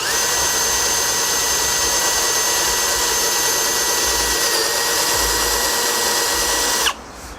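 A handheld drill press drills a 10mm hole, running steadily at high speed for several seconds, a loud continuous whine and grind, then cuts off abruptly near the end.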